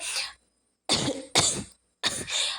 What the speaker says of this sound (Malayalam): ചുമയാണ് ഗൈസ്